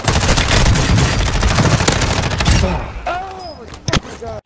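Bursts of automatic gunfire from the Warzone 2 video game, loud and dense for the first few seconds, then thinning to a few sharp shots and sweeping effects, with voices talking over the action.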